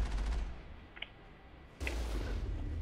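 Heavy turret fire in the Mass Effect game on Noveria, a low rumbling barrage of shots that fades out briefly then resumes loudly, with a couple of faint sharp clinks between.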